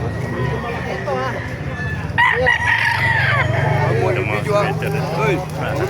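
Roosters crow repeatedly at a cockfighting chicken market in Baliuag, Bulacan, with several birds calling close by and overlapping amid clucking and a busy crowd, while people talk throughout.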